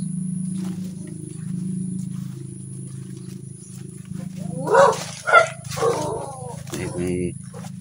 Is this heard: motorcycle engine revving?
no